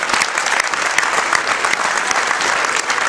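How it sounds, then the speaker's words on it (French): Steady, dense applause from a crowd at a sports club celebration honouring its team, sustained clapping throughout without a break. "il est là, Ken, pour l'applaudir."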